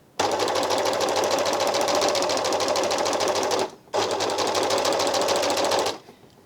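An Elna Elina 792D machine set to high needle tension for gathering runs in two steady, loud whirring bursts, a long one and a shorter one after a brief pause, with no voices.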